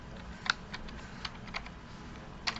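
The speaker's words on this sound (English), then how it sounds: "We'll type it in." Keys tapped on a graphing calculator to enter a polynomial equation, a handful of light, separate clicks spaced irregularly, close and fairly quiet, with no talking.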